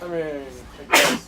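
A single sharp, breathy sneeze bursts out close by after a stretch of casual talk, loud and brief.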